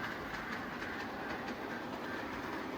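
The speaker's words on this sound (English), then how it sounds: "this is the Polar Express elf train" A small Polar Express model train hums and rattles steadily along its track, a continuous whirring clatter at moderate distance with no talking.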